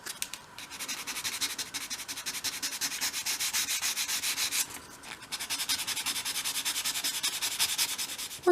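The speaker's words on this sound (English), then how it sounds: "come in with either an eraser or a piece of fine grade sandpaper and just very gently remove" Fine-grade sandpaper rubbed gently over a wooden door frame to lift pencil marks, a steady close scratchy rasp of rapid back-and-forth strokes with a brief pause midway.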